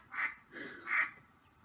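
Three nasal duck quacks ring out close and clear in a short, evenly spaced sequence, each one a brief bright burst with quiet gaps between.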